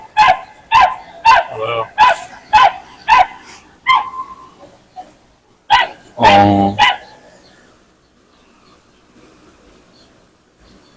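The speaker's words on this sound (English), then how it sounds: "It was a cute ass dog." A dog barks repeatedly at close range in a quick series of sharp barks, then a longer yelping bark, before fading to quiet; a person speaks briefly between barks.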